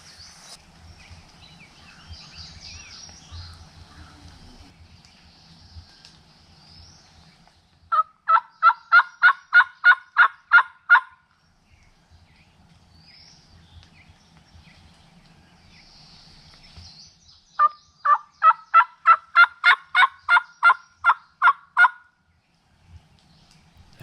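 A wild turkey in the Wisconsin woods gobbles in two long rattling bursts, each a rapid string of loud pulsing notes, separated by quiet stretches with faint birdsong and rustling.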